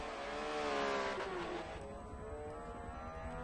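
Reidius Laser GT3 race car at Monza, the engine revving loud and high then dropping in pitch through a gear change as the car passes, with a strong pulsing tone.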